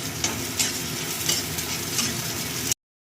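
Spices sizzle steadily in hot oil while being stirred for black taro greens, a continuous close frying hiss with faint scraping strokes, no voices.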